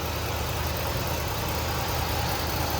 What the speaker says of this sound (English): Runs smooth, idles nice.